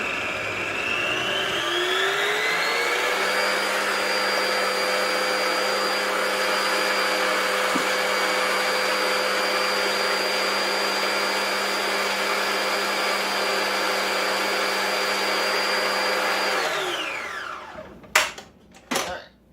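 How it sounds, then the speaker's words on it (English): A blender runs steadily for about sixteen seconds, loud and close, whirring through apple cake ingredients, then winds down and stops, followed by a few clunks. "And we're going to blend that up."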